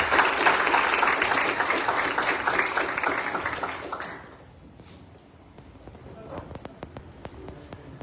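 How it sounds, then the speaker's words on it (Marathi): A lecture audience claps loudly to welcome a speaker. The dense applause lasts about four seconds, then thins into a few scattered claps and room noise. "तर जोरदार टाळी स्वागत करूया सर्वांना"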